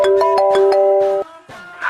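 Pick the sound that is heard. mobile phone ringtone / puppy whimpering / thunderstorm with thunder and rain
mobile phone ringtone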